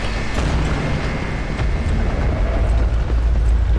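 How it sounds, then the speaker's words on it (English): A loud, sustained rumbling blast from the video game Lies of P, set off by pulling a lever, with heavy low-end roar and crackling debris continuing at steady loudness for several seconds without talk. "It sounded like an explosion, so it might have been the wrong lever."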